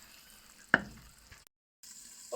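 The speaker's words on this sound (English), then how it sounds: "I'm already frying the chicken" A soft, steady sizzling hiss of chicken frying in oil, broken by a sharp clink, then a brief silence before the sizzle resumes.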